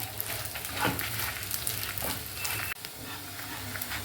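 Spices roasting in oil in a pan for a Kerala theeyal until reddish brown, giving a steady, moderate sizzle with occasional stirring scrapes, no voices.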